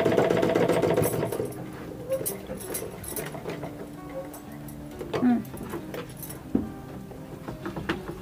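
A sewing machine stitching a blouse during tailoring work hums loudly at first, then gives way to softer intermittent mechanical clicks and handling sounds, with a person talking over parts of it.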